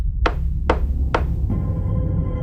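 Three dull knocks from inside a wall, evenly spaced and fairly loud, thud against a low droning horror-story background before a faint tone swells in.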